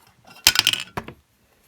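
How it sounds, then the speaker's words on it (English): Coins drop into a toy vending machine in a quick, bright metallic jingle followed by a second short clink, then silence. "Hey Kitty, those coins aren't for you."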